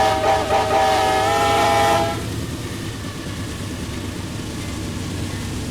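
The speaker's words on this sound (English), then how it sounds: "man, this train's loud" A loud train races past at full speed, its horn sounding in a strong sustained blast for about two seconds before cutting off, leaving the rumbling, rattling roar of the passing cars.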